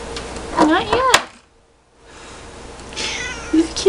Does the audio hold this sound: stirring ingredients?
no